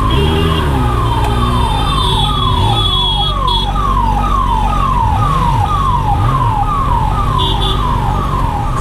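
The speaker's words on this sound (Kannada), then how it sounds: "ಯಾರೋ ಇಲ್ಲಿ ಆ್ಯಂಬುಲೆನ್ಸಲ್ಲಿ ಹೋಗ್ತವ್ರೆ" An ambulance siren wails loudly and continuously close by in a rapid repeating up-and-down cycle, with road traffic rumbling underneath.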